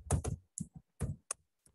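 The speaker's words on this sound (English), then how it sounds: "I'm just typing here connector peg." Keys on a computer keyboard clack in an uneven run of sharp taps, close and fairly quiet, with short gaps between strokes and no talking.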